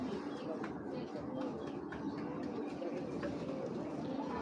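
Pigeons coo softly and repeatedly against a busy background of murmuring voices and rustling, the cooing low and steady rather than prominent.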